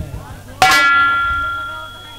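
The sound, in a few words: bell ringing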